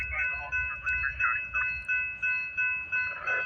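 A westbound freight train with two locomotives passes close by, its wheels making a steady rhythmic clacking about twice a second over a continuous metallic rumble, with faint squealing tones above.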